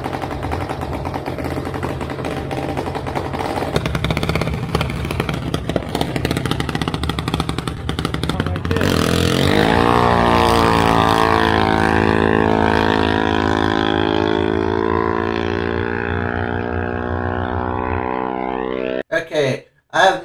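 A Chevy S10 pickup truck's engine revs hard at a burnout competition: rough popping and crackling at first, then a loud sustained high-rpm howl held for about ten seconds before it cuts off abruptly.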